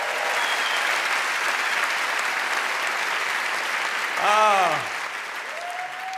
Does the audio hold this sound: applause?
yes